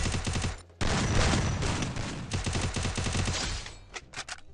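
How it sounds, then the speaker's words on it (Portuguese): Rapid automatic gunfire fills a first-person match of the video game Free Fire. Dense bursts of shots play loud and continuous, with a short break near one second, then taper off into scattered single shots. "E a gente dando tiro pra cá."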